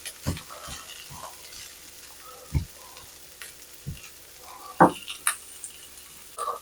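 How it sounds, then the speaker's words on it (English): Hash browns frying slowly in a pan give a faint, steady sizzle, broken by scattered soft knocks and scrapes of stirring; no one speaks. "This I'm just slowly letting fry."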